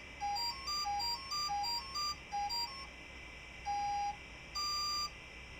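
A motor's electronic speed controller chirps through a sequence of short rising electronic beeps in quick groups, then a few longer single tones after a pause, clear and close.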